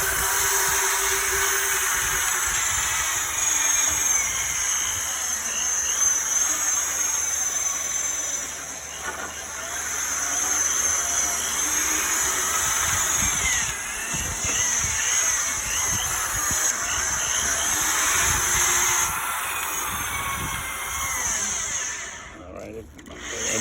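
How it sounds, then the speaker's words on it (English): A power drill bores through a door using a cross drilling jig, giving a continuous high whine that holds steady for a long stretch with brief dips near the end, while a person talks over it. "and continue drilling."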